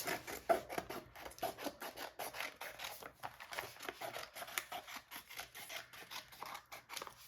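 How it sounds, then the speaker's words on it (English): Scissors snip around a cut vinyl craft design for a Thanksgiving project, making a steady run of close, soft crisp cuts and rustles with no talking. "I'm going to go ahead and trim this away now, just so I can get this really close to my design"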